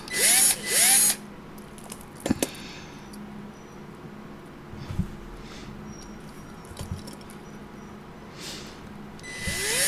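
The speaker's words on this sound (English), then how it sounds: "Start out slow so you don't let the drill bit walk on you." A power drill boring a hole in a 1972 Ranchero whirs in short bursts with pauses between, close by, along with a few clicks and handling knocks.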